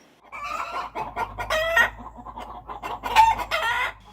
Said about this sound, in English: chickens make this bawk bawk sound for lots of different reasons